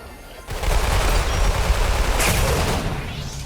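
Heavy automatic shotgun fire from an AA-12 in a Roblox shooter, a dense continuous burst of loud blasts kicking in after a brief quieter start and sustaining to the end.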